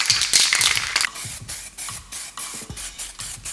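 Clear coat paint sprayed onto an engine from a spray can in several short hissing bursts, a longer loud spray first and then a quick rhythmic series of shorter puffs, close and alone.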